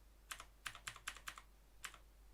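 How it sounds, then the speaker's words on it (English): Computer keyboard keys pressed in a quiet room, about seven crisp clicks in a loose, uneven rhythm, close and fairly soft. "If you want to zoom it, just press plus at your keyboard."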